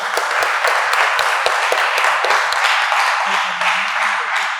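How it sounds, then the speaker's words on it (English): An audience applauds at the close of a meeting on a human rights report: steady, dense clapping from many hands, fairly close and continuous, with a faint tone near the end. "So let's give a round of applause."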